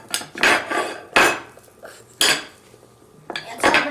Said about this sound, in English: Now we need to stir around, stir.